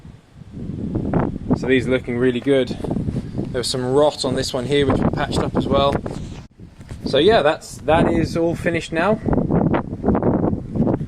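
Low, blustery wind rumbles against the microphone beneath someone speaking outdoors while repairing rotten French doors, gusting unevenly throughout.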